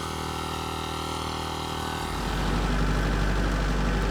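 A tractor engine idles with a steady mechanical drone while hooked up to a mud mixer at a remote site, then revs up midway into a louder, deeper roar, close by and with no one talking.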